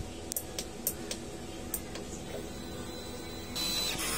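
A DTF printer runs a head clean: a quiet machine hum with scattered light clicks and ticks, then a louder whirring motor starts near the end.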